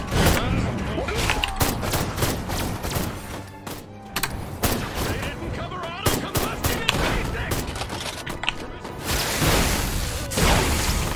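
In the Destroy All Humans! video game, grenade blasts and gunfire crackle in a dense, chaotic barrage of sharp shots and bangs that keeps going almost without pause throughout.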